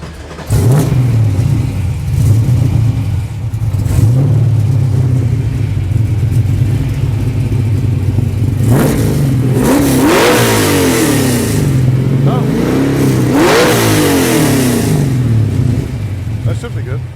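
Race car engine fires up and settles into a loud, rough idle nearby, then is revved several times with rising and falling throttle sweeps before dropping back to idle.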